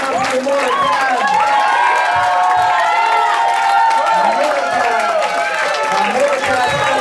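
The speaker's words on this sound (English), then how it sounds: "Give her a round of applause." Applause and cheering from the audience at a church play of the Story of Esther, dense clapping layered with crowd voices and talk running throughout.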